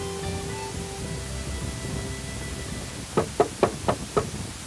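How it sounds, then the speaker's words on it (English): Five sharp knocks on a house door in quick, slightly uneven succession, distinct and moderately loud over a quiet background hum, with no one speaking. "there was a loud knocking on the door of Alicia's house"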